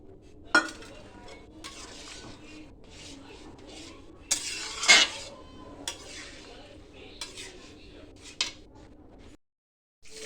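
Peas going into a pot of cooking khichdi and being stirred: a spoon scrapes and clinks against the metal pot in irregular bursts, with a couple of sharper clanks over a low, steady background.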